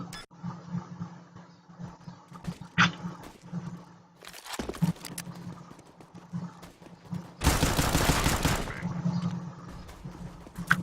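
Gunfire in the game CS:GO on the Dust 2 map, with an AWP sniper rifle in use: scattered sharp shots and a loud, dense burst of fire near the end over a low game hum, with a voice intermittently.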